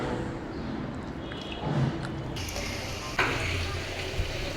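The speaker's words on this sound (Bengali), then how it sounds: "এভাবে দিয়ে আস্তে জালে এপাশ ওপাশ ভালো করে কড়া করে ভেজে নেব।" Chicken chaap, marinated with lemon juice, frying in a pan over low heat with a steady soft sizzle, with occasional light knocks of a utensil against the pan.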